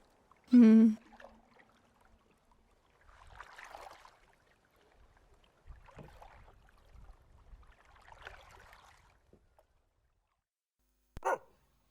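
A dog at a house gives one loud, close bark at the start and another sharp bark near the end, with quiet talking in between.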